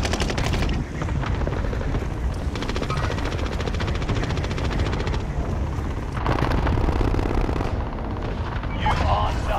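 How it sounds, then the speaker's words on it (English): Automatic and single gunfire crackles through a Call of Duty: Modern Warfare multiplayer match, with rapid bursts and sustained shooting layered over a continuous battlefield rumble and some player chatter. "Oh, they're shooting across the way, too."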